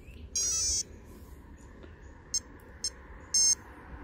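The ESC of an Arrma Granite 6S RC car beeps at startup: one long electronic tone, two quick chirps, then another longer tone, clear and close over faint background noise.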